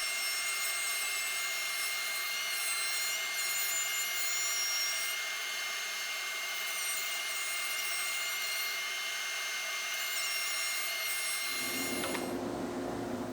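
A handheld router with a bearing-guided rabbeting bit cuts a 1/4-inch rabbet in wood, giving a steady high-pitched whine that drops abruptly into a lower, rougher spin-down near the end.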